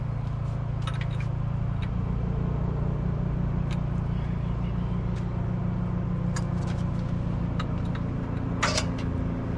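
A car engine on a dyno at Fueltech fires up for its first test run, holding a loud, steady, droning idle with a low rumbling hum throughout and no talking.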